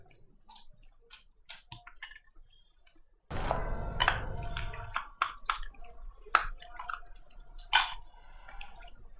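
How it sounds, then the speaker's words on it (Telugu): Marinated chicken for Hyderabadi dum biryani mixed by hand in a dish: wet squelching and dripping squishes, a few soft taps first, then a denser run of close, irregular wet squeezes with no talking. "ఇప్పుడు చేతితో కలపాలి దీన్ని"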